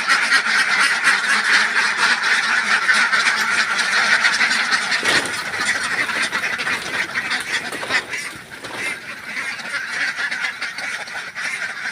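A flock of about two hundred laying ducks in a semi-free-range farm pen quack and honk continuously, a dense chorus of overlapping calls close by that carries on for the whole stretch without any talk.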